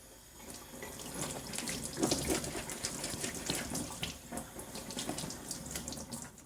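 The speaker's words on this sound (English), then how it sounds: "Now we rinse the boots under clean water." A tap runs while hiking boots are rinsed under clean water, giving a fluctuating splashing gush with irregular spatters as the stream hits the boots, moderately quiet and close.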